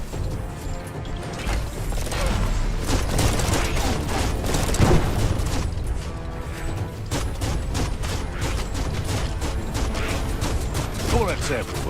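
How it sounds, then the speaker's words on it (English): Gunfire in the action video game Biomutant: dense, rapid volleys of shots and mechanical clatter that rattle on continuously at close range. "Bullets everywhere."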